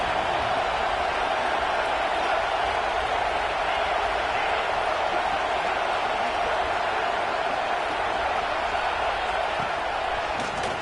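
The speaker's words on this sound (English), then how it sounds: "The crowd getting behind this defense as they try to get a stop in the red zone." A stadium crowd roars steadily in a college football video game, Washington at Penn State, as the home fans back the defense during a red-zone stand, a dense, unbroken wash of cheering that holds at an even level throughout.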